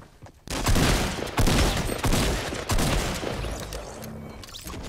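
Fortnite gunfire in a squad match: dense, loud bursts of rapid shots and booms, nearly continuous after a brief quiet start, with short gaps between volleys.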